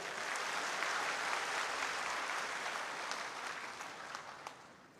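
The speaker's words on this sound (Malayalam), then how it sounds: "ഉച്ചത്തിലൊരു കയ്യടി കൊടുത്ത്" Loud, sustained applause from an audience at a political gathering in Kerala, dense clapping that holds steady for several seconds before easing slightly toward the end.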